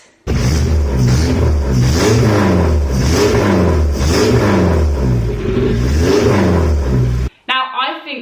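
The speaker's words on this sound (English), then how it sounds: "ITBs sound like this" A close BMW M10 engine with individual throttle bodies and short intake trumpets revs hard in rhythmic bursts, roughly five sharp blips with a raspy induction snarl, then cuts off abruptly at the end.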